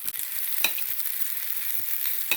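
Potatoes fry in a pan of fragrant oil, giving a steady close sizzle with a few sharp scrapes of stirring, and no voices.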